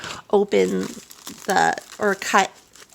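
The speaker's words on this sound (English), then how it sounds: "It's hard to open them if I'm just like holding the envelope" A paper envelope package holding a diamond painting kit is pulled open, giving crinkly paper rustles mixed in with a person talking close by.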